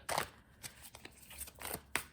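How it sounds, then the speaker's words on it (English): Tarot cards being shuffled by hand, a series of quick, soft riffling swishes and taps at close range in a quiet room, arriving in short uneven bursts. "every time a card falls out, I feel like I have to shuffle it a few times"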